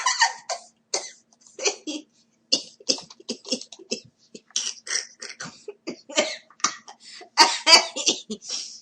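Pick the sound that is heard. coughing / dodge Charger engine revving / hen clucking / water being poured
coughing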